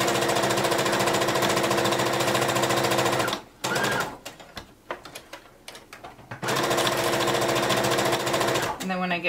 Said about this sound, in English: I backstitch so that way it's not gonna pop open